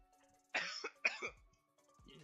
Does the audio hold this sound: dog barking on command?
no